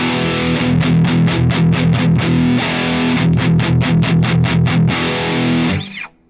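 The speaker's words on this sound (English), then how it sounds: "Typical, you know, Mesa Boogie style sound." Distorted electric guitar through a Spark 2 amp on a Mesa Boogie style model, fast chugging palm-muted riffing in rapid bursts, loud and upfront before cutting off.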